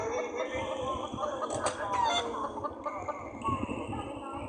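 Video-game chickens cluck repeatedly in short bursts, with a rooster-like crow mixed in, fairly close over a quiet background.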